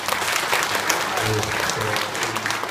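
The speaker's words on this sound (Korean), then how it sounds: "자 박수 한번 하시겠습니다" Steady applause from a church congregation after a testimony at a Korean church service, a dense continuous patter of many hands filling the room without a break.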